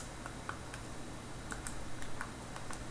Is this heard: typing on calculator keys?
yes